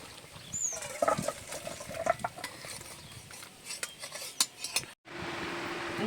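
Pond fish curry with cumin and chili powder being stirred in a pot, with wet scraping and clinking of a metal spoon over a soft bubbling, ending in a brief cut to a quieter hiss.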